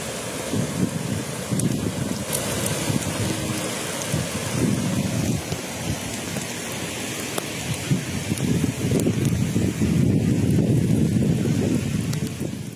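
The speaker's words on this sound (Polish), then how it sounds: "Ogromna burza nad Kaliszem, której towarzyszyła ulewa." Heavy rain pours down in a thunderstorm over Kalisz, a dense, steady roar of downpour on streets with deep rumbling and wind buffeting the microphone throughout, swelling louder toward the end.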